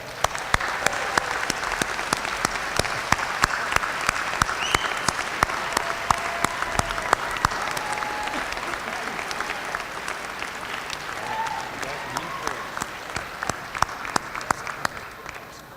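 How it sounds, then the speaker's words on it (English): A large audience at a college winter commencement applauds for an extended stretch, dense sustained clapping from a big crowd, loud and continuous throughout. "let's give your family, friends, and loved ones a great round of applause"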